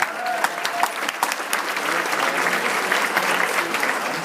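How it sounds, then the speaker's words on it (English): At a school's back-to-school night, a crowd claps for the math department, steady, fairly loud applause from many hands with a few sharper individual claps standing out. "Math, let's give them a round of applause"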